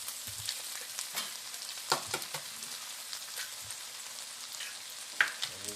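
Migas being scrambled in a frying pan: a steady close sizzle with scattered scraping stirs and a couple of sharper clinks of utensil against pan, no talking.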